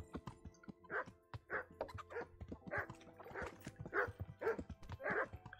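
A dog in the village of Kingdom Come: Deliverance gives a run of about eight sharp barks and yips, fairly close, spaced roughly half a second apart over faint background ambience.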